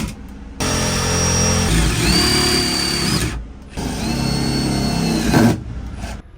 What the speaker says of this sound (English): trying to drill this in.